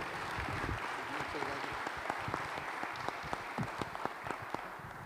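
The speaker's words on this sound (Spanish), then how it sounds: "Les pido un fuerte aplauso para el capitán de navío, por favor." An audience at a national congress applauds a navy captain, a fairly faint, continuous spatter of clapping with distinct individual claps, heard at a distance in a large hall, with some voices mixed in.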